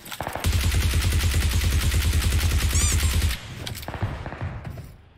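Rapid automatic gunfire from a weapon in the mobile battle-royale game PUBG Mobile, a loud, dense burst lasting about three seconds before cutting off, followed by quieter game ambience and a few faint scattered shots.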